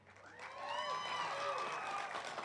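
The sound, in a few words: audience cheering and applauding at graduation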